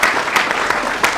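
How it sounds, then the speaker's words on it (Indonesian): Warm applause rolls through an audience at a polytechnic campus event, a steady crowd of hands clapping with a few sharper claps popping out. "Tepuk tangan lagi."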